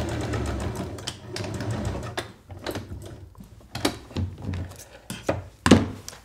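A sewing machine stitches fabric for a fold-over clutch bag, humming in a steady low run at first, then breaking into uneven thuds and clunks as the work is shifted, close and without talk.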